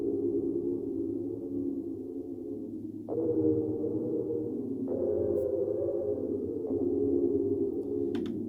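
A spacey, slightly detuned synth pad sustains smooth chords, shifting to a new chord roughly every two seconds, alone and fairly loud with a warm, swelling low-mid body.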